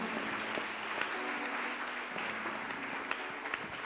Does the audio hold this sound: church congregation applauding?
yes